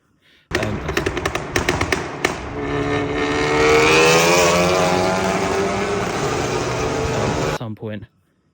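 A Volkswagen Golf GTI Mk7.5, stage 3 tuned with about 500 bhp and an ARM valved exhaust, revs loudly up close, rising to a sustained roar before cutting off abruptly.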